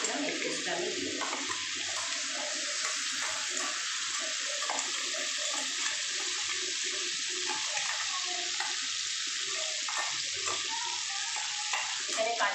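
Spice paste is stirred into hot oil for a pointed gourd and cottage cheese curry, giving a steady, close, continuous sizzle and crackle with light stirring throughout.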